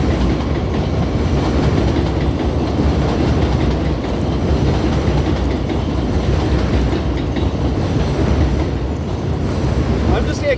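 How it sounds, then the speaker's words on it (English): A train rolls past close by with a loud, continuous rumble and rhythmic clatter of wheels on rails, sustained throughout with no break. "I'll let this train go by real quick."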